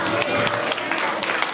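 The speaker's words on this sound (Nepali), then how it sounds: "ल मिल्यो ताली बजाऊ" A temple congregation at a Shreemad Bhagwat discourse at Shree Krishna Pranami Mandir, Budhaul, claps in a dense, steady patter through the short stretch, with a faint voice underneath.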